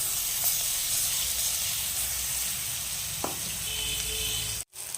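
Spice paste frying in hot oil gives a steady, moderate hiss and sizzle from close by. It continues for the whole stretch and cuts out briefly near the end.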